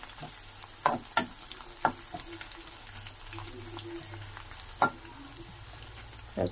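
Dried red chillies frying in a pan with garlic, a soft continuous sizzle punctuated by a few sharp crackles and pops, fairly quiet and close, with no talking.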